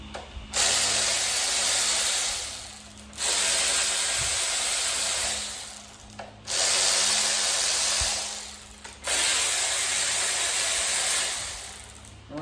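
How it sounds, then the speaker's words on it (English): A ratchet breaks loose the rocker shaft bolts on an FE engine during teardown, producing four loud, sustained mechanical bursts of roughly two to three seconds each, separated by short pauses. "I'm gonna come through and just break all these rocker shaft bolts loose"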